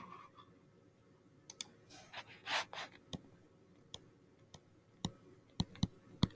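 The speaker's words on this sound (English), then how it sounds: "I can just go up in the calculator and hit enter or type it in." Calculator keys are tapped in a quiet room, giving a scattered series of small sharp clicks, some single and some in quick pairs, with a faint rustle partway through.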